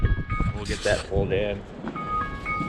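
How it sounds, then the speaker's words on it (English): An electronic alarm sounds as repeated bright, pitched beeping tones, coming and going under a man's speech nearby. "That's my alarm."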